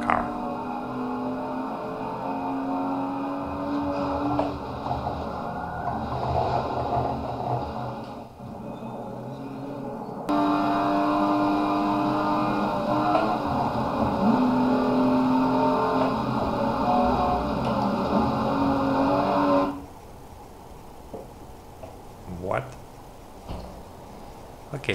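A racing car engine in Forza 7, played on a force-feedback steering wheel, drones and revs continuously with shifting pitch and brief drops as gears change, loud and steady, then cuts to a quieter patch with soft clicks.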